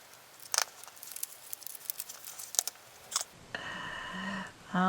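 Scissors snipping through paper while cutting out a window shape for a surreal collage, a few short crisp cuts and rustles, followed by a steady background hum near the end.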